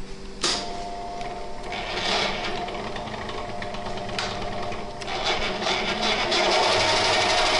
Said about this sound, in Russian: Сейчас нальем туда солярки, закроем крышку и промоем коробку подач.